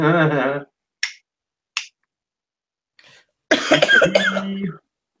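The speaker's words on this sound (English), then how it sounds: "Who's coughing?" Someone coughs in a short harsh burst after a few faint clicks and a brief voice, in an otherwise quiet room.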